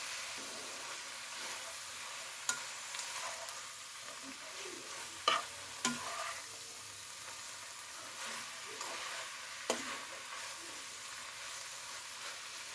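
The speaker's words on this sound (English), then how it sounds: "You just keep stirring this around until it cooks properly." A spatula stirs a vegetable stir-fry sizzling in a hot pan, a steady hiss of frying throughout with occasional scrapes and clicks of stirring, close and moderately loud with no speech.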